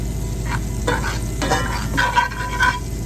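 Olive oil and butter sizzle steadily in a non-stick pan while being stirred, with a continuous frying hiss punctuated by several soft scraping strokes, close and moderately loud, with no voices.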